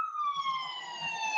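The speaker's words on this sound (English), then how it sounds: "It was an ambulance." An ambulance siren wails steadily nearby, a single sustained tone slowly falling in pitch, heard from a home beside a highway with no talking over it.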